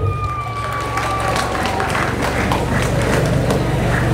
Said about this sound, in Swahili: Makofi mengi na vigelegele kwao.